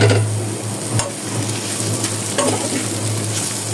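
Dried fish (shutki), chilli and onion fry loudly in oil, a close, dense sizzle with a few sharp stirring clicks against the pan.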